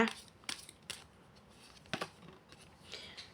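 Oracle cards being shuffled in a quiet room during a fortune-telling reading, with several short papery riffling bursts spaced a second or so apart, near and fairly soft.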